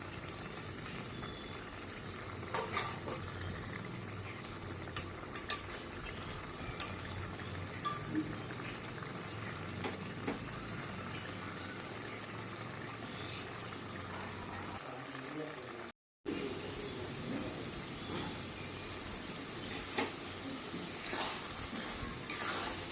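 Bombay duck fish being stirred in a pan over a high flame until its water cooks off, giving a steady moderate sizzle and bubbling with scraping strokes all the way through and a brief cut near the end.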